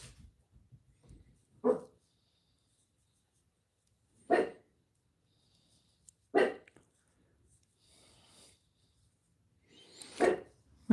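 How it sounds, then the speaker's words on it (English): A dog barks in four short, separate bursts spaced a few seconds apart, each bark fairly close and sharp against a quiet background, set off by passing cars. "When they hear the cars, they bark."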